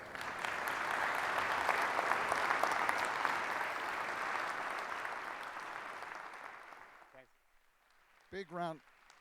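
Audience at Affiliate Summit West 2015 applauding Chad Hymas after his keynote, a broad, sustained roar of clapping that fades out, followed by a brief voice at the end.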